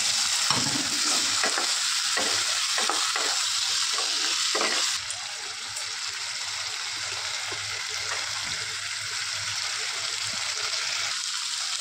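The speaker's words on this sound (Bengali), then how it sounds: "এই যে হালকা একটু জল দিয়ে দেবো, দিয়ে হালকা একটু কষাবো আবার।" Soybean chunks and potato stir-fried in spice masala with a little water splashed in, a steady bubbling sizzle and scraping stirs up close, the hiss easing slightly partway through.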